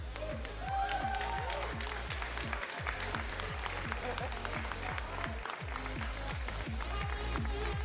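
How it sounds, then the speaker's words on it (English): Spectators at an esports aim 1v1 tournament final clap for the players on stage while loud music with a pounding, regular beat plays over the applause. "They deserve all the claps."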